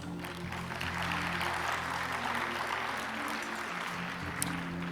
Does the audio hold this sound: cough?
no